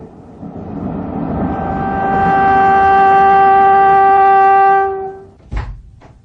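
In a radio drama, a train door aboard a speeding train opens. A droning, rising mechanical hum swells and holds, then cuts off into a sharp clunk followed by a second knock, with no talk.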